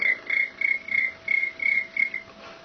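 A voice imitates a cricket, giving eight short, regular high chirps at an even rhythm, fairly close and clear, then trailing off.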